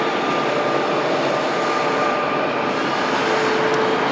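Airliner at Lisbon Airport: a loud, steady jet engine roar with a faint whining tone running through it, constant and close throughout the short stretch.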